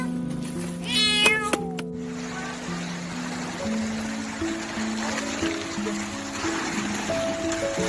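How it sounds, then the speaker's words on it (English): A cat trapped underground cries out, one loud close meow near the start followed by fainter, drawn-out plaintive calls over a trickling, rustling background. "These builders heard a cat's helpless cry, so they dug up the ground with their hands to bring it back to the light safely."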